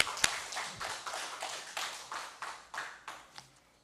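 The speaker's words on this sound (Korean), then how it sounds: "하나님께 영광의 박수 돌리겠습니다" A small congregation at an early-morning church service claps in a slow, regular rhythm, about a dozen distinct claps fading gradually, faint and somewhat distant.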